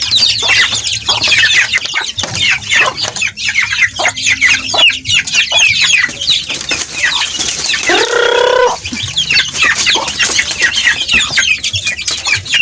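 Native Bisaya chickens, grown birds kept alongside chicks, clucking busily and close, with dense repeated clucks, scratchy calls and one louder squawk partway through, no voices.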